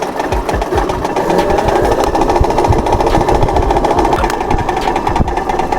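A 48-volt electric pit bike with an 1800-watt motor is ridden, giving a loud, close, rattling mechanical drone with rapid knocking pulses and steady motor whine throughout.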